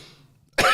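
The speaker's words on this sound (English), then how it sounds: "I thought I muted myself, but I coughed right into the mic." A single sharp cough lands right into a microphone after a quiet moment of faint background hum, loud and close, with no talk during it.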